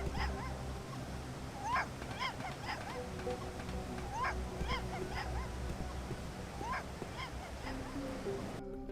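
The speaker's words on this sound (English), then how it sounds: "The puppy is barking at something down below." A small puppy yips and barks repeatedly in a video game set in a neon-lit city, its calls scattered over a steady rumbling ambience with a low hum.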